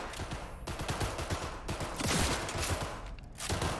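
Rapid gunfire in the video game Cyberpunk 2077, with dense bursts of shots rattling continuously at close range and loud throughout, briefly mixed with mechanical weapon sounds.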